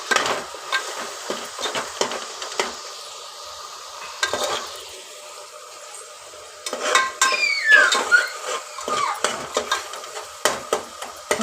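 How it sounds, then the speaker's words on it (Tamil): Tomatoes sauté in a pan for chicken biryani, sizzling steadily while a spoon stirs and scrapes through them in repeated close, clattering strokes. "இப்போ கொஞ்சம் தக்காளிலாம் நல்லா வதங்கிடுச்சுன்னு நினைக்கிறேன்."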